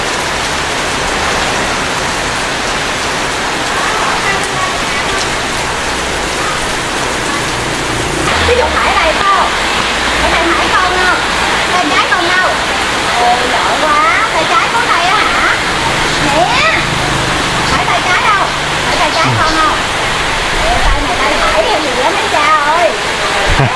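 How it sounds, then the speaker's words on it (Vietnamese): Heavy morning rain falls in a dense steady roar beside a small noodle-soup stall, loud and unbroken, with people talking intermittently over it. "Sáng nay trời mưa quá trời luôn cả nhà."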